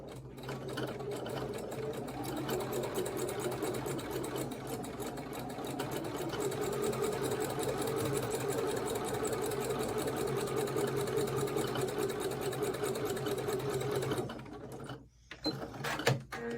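A sewing machine hums steadily as it stitches a quarter-inch seam on a snail trail sampler quilt block, quiet and continuous for most of the stretch before stopping near the end with a few soft clicks.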